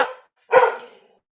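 A female dog named Sally, scruff raised and acting fierce, gives a short bark followed after a pause by a louder, fuller bark that trails off, close and clear with no talking.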